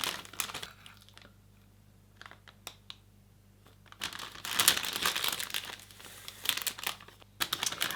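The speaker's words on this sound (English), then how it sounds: "I found a small cellophane bag." A small cellophane bag crinkles up close in a quiet craft workspace, with soft scattered rustles building into a busier, louder stretch of crackling near the end.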